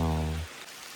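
Heavy rain pours down on a hilltop trek to Kavaledurga fort as a broad, steady hiss. A brief low tonal hum in the first half-second fades out and leaves only the rain.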